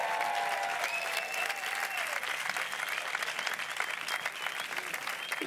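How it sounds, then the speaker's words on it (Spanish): Sustained applause from a studio audience at a Spanish TV talk show, dense and even clapping that fills the room, with some cheering and voices faintly mixed in. "Un aplauso para Jorge Ponce"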